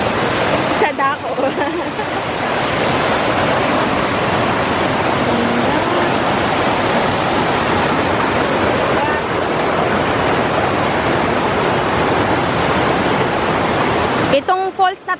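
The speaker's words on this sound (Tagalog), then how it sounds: "Itong falls na to guys, halos hindi pa to nagagalaw." A waterfall on a mountain trek in Occidental Mindoro roars in a steady, loud, close wash of rushing water that fills the whole stretch, with a few faint sounds at the start and end.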